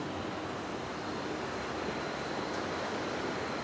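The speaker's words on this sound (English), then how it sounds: "the water is coming up and over the weirs and then falling into these catchment basins" Water spilling over weirs into catchment basins at a municipal water treatment plant, a steady, dense broadband rush that holds at an even level throughout, with no voices.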